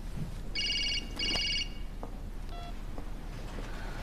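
An electronic telephone ringtone sounds in two short bursts, followed by fainter beeps, against a quiet indoor room before a call is answered.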